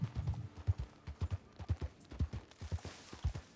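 A horse's hooves clip-clop at a steady walking pace in a western video game, close and fairly faint, with evenly spaced dull thuds throughout.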